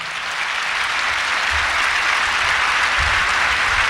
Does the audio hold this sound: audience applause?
yes